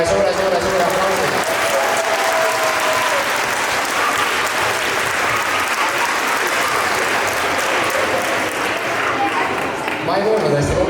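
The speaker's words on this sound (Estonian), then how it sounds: "teeme ka teile veel suure aplausi" Long, loud applause from an audience at a school's original-dance competition, sustained throughout with crowd noise, and a voice speaking at the start and near the end.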